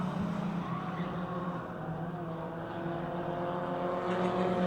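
Race cars, a Dodge Shadow and a Dodge Daytona among them, drone steadily around a speedway oval, a layered engine roar heard from a distance with no talk.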